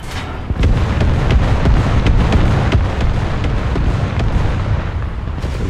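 Tank cannon fire in War Thunder ground battles, heavy booming blasts and impacts with rumbling engine noise throughout, loud and close, with no talking.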